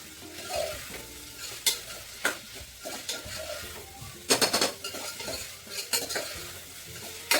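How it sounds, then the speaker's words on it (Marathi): Sliced onions sautéed in a pan for a dhaba-style mutton curry, a steady close sizzle broken by irregular scrapes and clinks of a spoon stirring against the metal. "असा आपण कांदा हा परतून घ्यायचा।"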